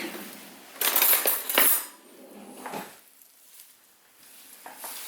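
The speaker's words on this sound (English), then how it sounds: "I grab a fork" A metal fork picked out of a cluster of silverware, a bright jangling clatter of utensils knocking together, then a few fainter clinks near the microphone in a quiet kitchen.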